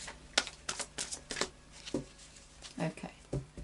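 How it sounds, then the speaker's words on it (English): Tarot cards are shuffled up close in a quick series of soft riffling bursts and taps, with a faint voice murmuring in the background. "Okay, so I'll just do a final shuffle now."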